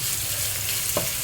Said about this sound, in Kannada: ಆಯಿಲಲ್ಲಿ ಒಂದು ಸ್ವಲ್ಪ ಹೊತ್ತು ಈ ರೀತಿ ಹುರ್ಕೋರಿ.